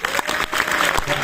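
Audience applause at a film preview screening in a Nantes cinema, a dense, steady burst of many hands clapping close and loud throughout.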